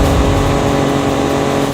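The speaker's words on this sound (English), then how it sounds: "Foot is to the floor, 90 miles an hour, shift again, 6th gear, 95, 100 miles an hour, 105 miles an hour" A 2017 Ford Raptor truck accelerates at full throttle past 100 mph, its engine roaring loud and continuous right up close for under two seconds, with no voices heard.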